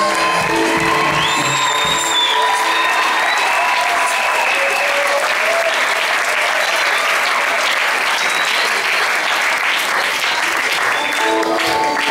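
An audience at a church gospel concert by a choir applauds and cheers steadily, dense sustained clapping with scattered whoops and shouts, loud and unbroken throughout.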